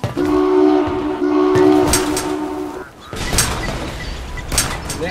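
A train in the Pandemic Express zombie game sounds a loud, sustained horn that cuts off after a few seconds, then rolls on with a rumbling, clattering run.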